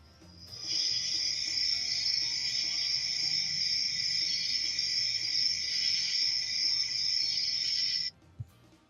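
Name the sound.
cricket chirping sound effect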